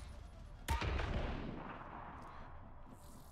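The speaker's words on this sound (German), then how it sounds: "Granate kommt!" A grenade blast in the video game Mass Effect Andromeda, one sudden booming burst that rolls off into a fading rumble, moderately loud and heard alone.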